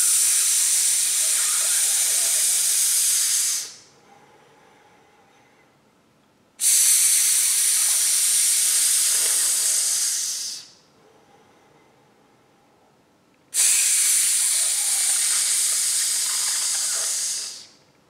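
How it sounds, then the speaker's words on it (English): Three long, steady hissing exhales for a brass warm-up, each lasting a few seconds, separated by quiet pauses for breath in between. "Those four counts out will include some sizzling with them."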